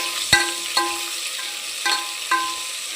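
Drumstick pieces and onion sizzle and fry quietly in a pan, with four sharp metallic clinks of a utensil against the pan.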